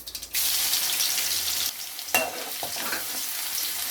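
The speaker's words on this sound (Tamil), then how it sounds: "கடுகு நல்லா பொரியட்டும். பூண்டு பல் சேர்த்துக்கோங்க." Mustard seeds and garlic cloves fry in hot oil in a kadai for egg curry, a dense bright sizzle that surges after a brief quiet start, with a couple of sharp spatula scrapes and crackles near the middle, close up and without speech.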